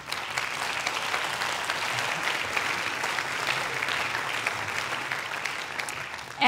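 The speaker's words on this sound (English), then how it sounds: "If we can give them a round of applause" Steady applause from a conference plenary audience, dense clapping held at an even level for several seconds with no talking.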